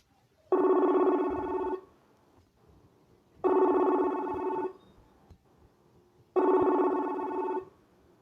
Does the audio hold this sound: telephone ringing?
yes